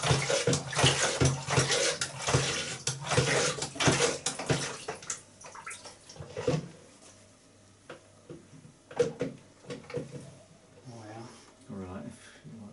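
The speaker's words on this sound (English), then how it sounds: "all I'm doing is pumping water through the pipe just to swill out the barley" Water is pumped through a home-brewing pipe to swill out leftover barley wine, with gushing and splashing bursts that thin into trickles and drips, while people talk over it.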